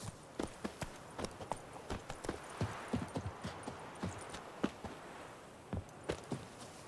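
Roach the horse trotting in The Witcher 3, with steady hoof clip-clops on the ground, fairly close and clear, with no talk over them.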